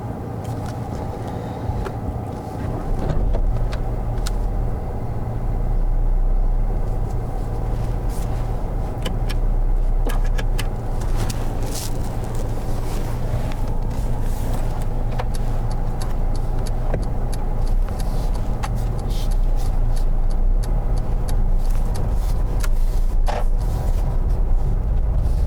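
A car pulls away on a road in Croydon during a mock driving test. Its engine and road rumble hold steady and fairly loud throughout, heard from inside the car with no talking.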